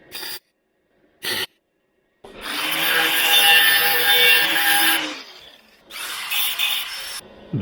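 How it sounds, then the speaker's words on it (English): Spot welding on a car body panel during rust repair on a Jaguar XJ X300: two brief crackling bursts, then two longer sustained spells of harsh, loud buzzing and sputtering close by. "I will dot weld this one"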